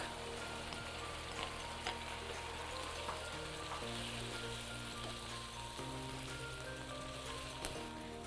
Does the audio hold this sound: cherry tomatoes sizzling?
yes